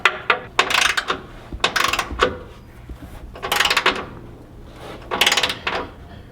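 A ratchet tightens a bolt on a Toyota Tacoma rock slider under the truck, with bursts of fast clicking in several separate runs, loud and close, broken by metallic clunks and short pauses.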